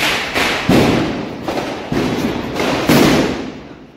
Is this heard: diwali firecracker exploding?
yes